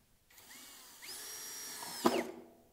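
A power drill drives a screw into the side of a Red & White school desk during assembly, whining steadily for about a second before a louder, strained burst as the screw seats, with no talking.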